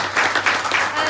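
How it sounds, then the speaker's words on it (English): A short burst of steady audience clapping at a book launch in an independent bookstore, many hands together, fairly close and even throughout. "So let's give them a clap for just running."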